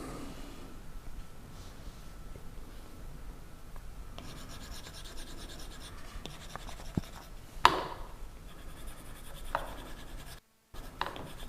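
An Apple Pencil sketches on an iPad Pro screen with quiet, close scratchy strokes and light taps, steady and soft, with a sharper tap partway through.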